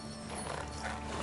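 Roach, Geralt's horse in The Witcher video game, gives a brief burst of horse sound, with dense, close snorting and hoof noise that fills the moment at steady loudness.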